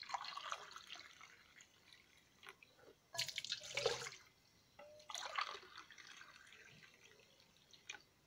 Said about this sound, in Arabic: نديرو زوج كيسان تاع ماء دافي